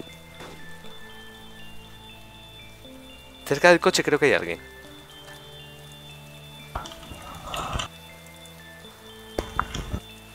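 Rain falling in the survival video game DayZ, a steady soft hiss beneath in-game tones, with voices talking over it in short bursts.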